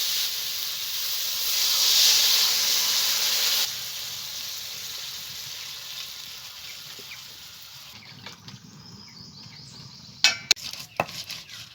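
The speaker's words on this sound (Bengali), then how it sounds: "ভাজা হয়ে গেছে, এবার আমি জল দিয়ে দেবো।" Loud hissing burst as water is poured into a hot pan of fried potato and plantain, fading into a softer simmer, followed by a few metallic clinks of cookware.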